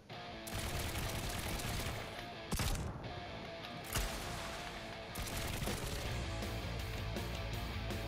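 Laser, cannon and rocket weapons from a Trailmakers build fire in turn, a dense sustained barrage with sharp bursts and brief breaks between volleys.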